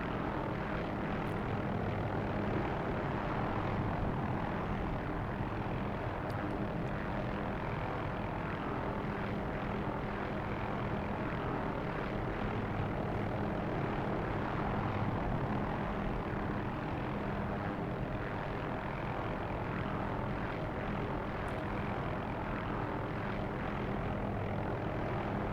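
Simulated aircraft engine in a flight simulator game during a landing approach at Frankfurt airport: a steady, continuous droning hum with broadband whoosh, loud and unchanging throughout, with no talking.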